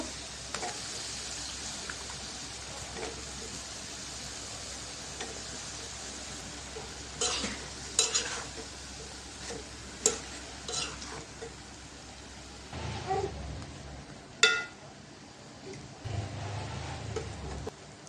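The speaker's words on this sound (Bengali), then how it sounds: "বেগুনটাও দিয়ে দিলাম বেগুনটা একটু কষাই নিব" Eggplant with spice paste of coriander powder and salt fries quietly in a pan, a faint low sizzle broken by scattered stirring scrapes and a few louder utensil knocks, with no voices.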